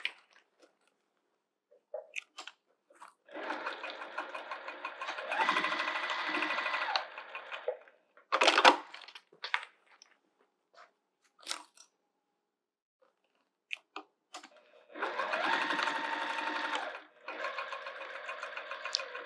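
Close, steady whirring runs of a sewing machine stitching the side edges of a fabric bag, two long bursts of several seconds separated by quiet pauses with brief handling clicks and rustles of fabric.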